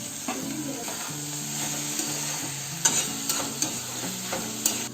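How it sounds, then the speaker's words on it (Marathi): Roasted eggplant tipped into a pan with turmeric for Solapuri-style bharit, then stirred: steady sizzling with scraping stir strokes and a few sharp clinks of a utensil against the pan, no voices. "आता मी वांग ते भाजलेलं टाकून घेते"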